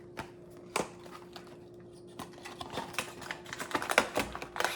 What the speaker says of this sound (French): Faut ouvrir la boîte.